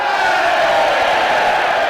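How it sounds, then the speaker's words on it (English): A wrestling crowd at a Ring of Honor event shouts in unison, mocking a wrestler's trademark "hey!" as a loud, dense, sustained roar of many voices filling the whole moment. "the crowd sort of mocking his trademark, hey!"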